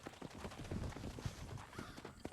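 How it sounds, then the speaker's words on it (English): Horse hooves clip-clop at a steady trot while ridden bareback in Red Dead Redemption, the hoofbeats fairly close and rhythmic over a busy game background. "I like how you're riding that horse bareback."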